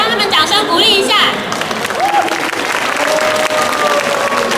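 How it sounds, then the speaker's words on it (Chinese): Applause at a prize ceremony for a pirate-themed character design contest: a crowd claps steadily under scattered chatter and cheering, with a bright squeaky noise and voices early on. "那大家帮他们掌声鼓励一下。"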